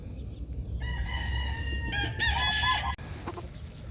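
Gamecock stags of the AEJ Sweater bloodline crow at a game farm, with several overlapping crows and clucks rising over steady farmyard background noise.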